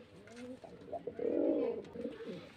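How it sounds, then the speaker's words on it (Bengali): A biscuit-coloured male pigeon kept for sale in Beldanga coos in a low, rolling phrase, close and fairly loud, with a few short softer notes before and after the main swell. "এই একটা বিস্কুট কালারের পায়রা"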